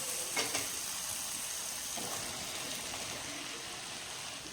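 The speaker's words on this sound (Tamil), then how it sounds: "ஸோ இந்த ஸ்டேஜில் வந்துட்டு நம்ம காளானை ஆட் பண்ணிடுறோம்" Mushrooms added to a hot oily masala sizzle and fry steadily, with a few scraping stirs early on and no voices.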